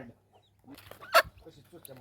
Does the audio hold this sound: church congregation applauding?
no